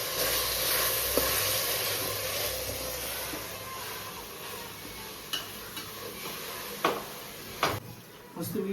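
Onions frying in a pan for chicken biryani, a soft continuous sizzle with occasional stirring knocks and scrapes toward the end.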